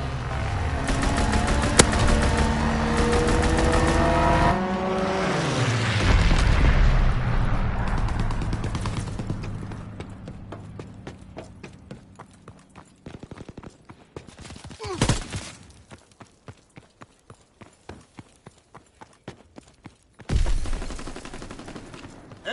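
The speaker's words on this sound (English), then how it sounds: "Strafing run inbound." A strafing run in a Call of Duty match: heavy gunfire and explosions rumble at first, then give way to a long string of sharp, spaced shots and bursts, with faint voice callouts mixed in.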